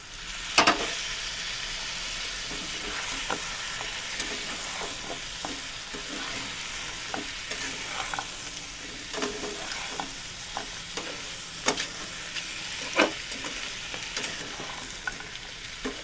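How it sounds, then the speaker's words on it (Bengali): Crab pieces with spices, salt and a little water stirred in a pan for crab pickle, a continuous sizzle with frequent scraping and clinking of the spoon against the pan, steady and close, with no talk. "সুন্দরভাবে মিশিয়ে নেওয়া হয়ে গেছে মশলার সাথে, আর কষানোটাও খুব ভালোভাবে হয়ে গেছে"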